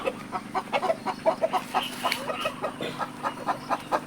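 Black Australorp and Buff chickens clucking in a small flock, a run of soft, irregular clucks and murmurs at moderate distance over quiet background.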